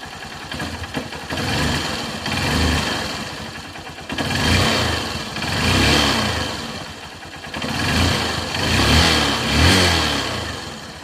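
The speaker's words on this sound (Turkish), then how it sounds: "Evet motor bu arada ısındı da" A Honda CB 125 E motorcycle engine runs steadily during carburetor air adjustment, its loud mid-pitched drone swelling and easing in repeated waves as the revs rise and fall, with no talking over it.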